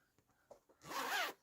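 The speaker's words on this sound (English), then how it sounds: "The zipper." A zipper on a quilted vinyl pouch is pulled open in one quick, close rasping stroke of about half a second, following a few faint soft handling rustles.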